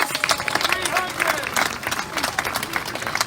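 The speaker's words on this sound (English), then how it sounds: "Give yourself a round of applause." Sustained applause and cheering from a crowd at an outdoor rally in Oklahoma City, dense and steady throughout with scattered whoops and voices mixed in.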